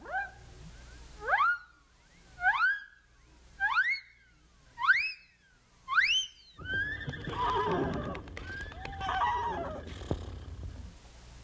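A horse neighs in a storybook recording, five rising whinnies in a steady sequence, loud and close, followed by a denser burst of music or mixed effects.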